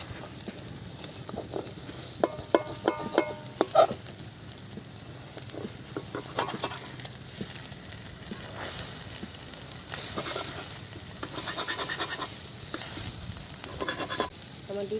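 Eggs fry in a pan, cooked covered until puffed like a cake, giving a soft continuous sizzle with intermittent clinks and scrapes of a utensil stirring and lifting, fairly quiet and close.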